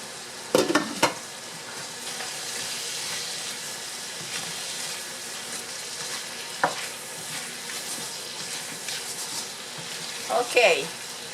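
Spanish rice with chicken, smoked sausage and shrimp simmers in a pan, giving a steady moderate sizzle and hiss, broken by occasional utensil clanks and stirring scrapes near the start and end.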